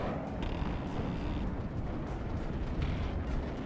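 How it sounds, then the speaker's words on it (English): Mortar shells raining down in the video game WARNO, a continuous heavy rumble of explosions with dull booming blasts layered over one another, loud and sustained without pause. "Mortars coming down in it to stun it."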